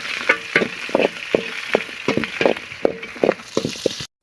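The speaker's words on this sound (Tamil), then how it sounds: "இஞ்சி பூண்டு சேர்த்திக்கலாம். நல்லா கலரி விட்டுக்கலாம். வெங்காயம் நல்லா வேகட்டும்." Onions with ginger and garlic frying in a pan for a village-style chicken dish, with a close stirring scrape repeating about every half second over a light sizzle, no voices.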